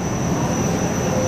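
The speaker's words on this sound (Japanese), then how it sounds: "小樽行き普通列車は発車いたします。" Local train bound for Otaru pulls away from the platform, a loud continuous rumble of wheels and motor with a steady high tone from the railcar, no voices.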